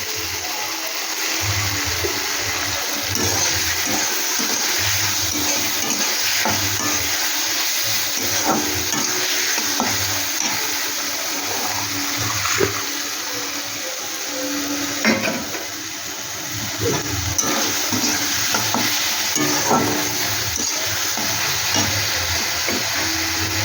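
Tomato sauce and soy sauce frying in a pan while being stirred, a steady close sizzle with scraping stirs throughout, no speech.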